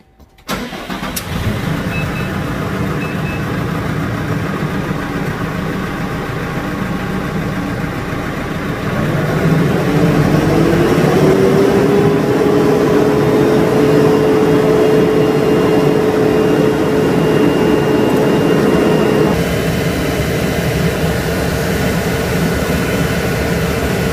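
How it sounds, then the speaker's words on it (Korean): A New Holland T5.110 tractor engine, a large imported tractor, cranks and catches, then runs in a steady loud idle; after a few seconds the revs climb to a higher, whining pitch and hold there, then drop back. "시동 걸고."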